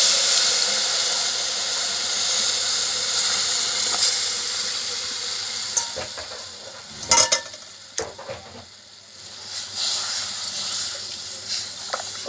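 Jaggery syrup poured into roasted flour in a pan gives a loud, steady sizzling hiss throughout, broken by a few sharp stirring clatters partway through.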